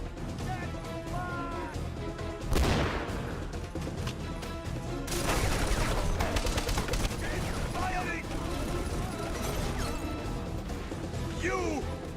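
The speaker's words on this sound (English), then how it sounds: "Give me some cover fire." Cover fire rattles through an Xbox 360 demo disc shooter, with bursts of gunfire and crashing impacts that swell loudly midway and persist under the dense game mix, alongside shouted voices.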